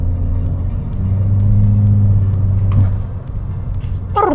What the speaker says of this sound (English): I love the little turbo flutter noise too